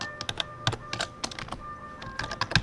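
Someone types code on a computer keyboard, quick irregular key clicks close by, with short bursts and brief pauses and no talk.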